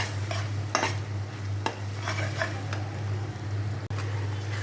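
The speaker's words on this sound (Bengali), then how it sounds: "পেঁয়াজটাও একটু কষাই নিচ্ছি, পেঁয়াজ আর গরম মশলা।" Onion and garam masala fry in a pan under repeated stirring, with spatula scrapes and light taps over a low steady sizzle, no voices.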